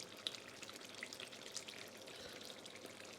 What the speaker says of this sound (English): let it simmer away 5 minutes or so